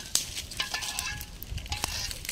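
A ladle scrapes and stirs through thick jamun fruit halwa in a pan, with soft sizzling and irregular clinks, close and fairly quiet.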